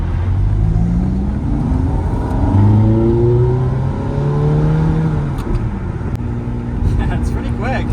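A Ferrari F430 with a manual gearbox revs hard as it accelerates, its engine note rising and falling through gears, loud and close inside the cabin with a steady roar.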